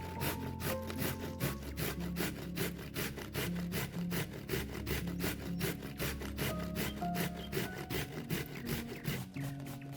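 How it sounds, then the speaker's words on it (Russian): Zucchini rubbed against a coarse grater in a home kitchen, a steady rhythmic rasping of quick repeated strokes, close and fairly loud, continuing without pause and with no talking. "А мы с вами натираем кабачки на крупной терке."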